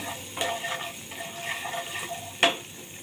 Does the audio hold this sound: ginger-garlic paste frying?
yes